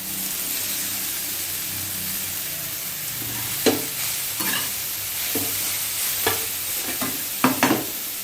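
Grated carrot and beetroot hit a frying pan for vegetable chops and are stirred, a steady sizzle joined by several sharp scraping strokes of the spatula near the end, close up, over a low background hum.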